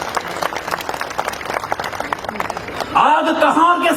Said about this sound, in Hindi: इस पर तालियां कम बजी आपकी।